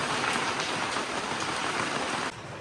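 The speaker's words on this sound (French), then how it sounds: "c'est de la grêle." Hail falls in a dense, steady hiss of patter on a surface and cab roof, loud and continuous, then cuts off abruptly near the end.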